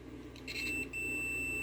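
A multimeter gives a short, thin electronic continuity beep while 12 volt plug wiring is tested, two brief tones over a low background hum.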